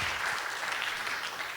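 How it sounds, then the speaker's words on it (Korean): Conference attendees at a forum on sustainable gastronomy give a round of applause after a keynote, a short burst of steady, even clapping from a crowd filling the room. "다시 한번 박수 부탁드립니다"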